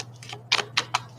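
Tarot cards being shuffled, heard as three or four brisk papery riffles in quick succession, fairly close and moderately loud over a low steady hum, with no voices.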